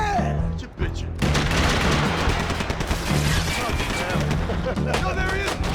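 Gunfire in Max Payne 3: dense, rapid volleys of shots crackling almost continuously after a brief lull, loud and close, mixed with booming impacts and a tense musical drone.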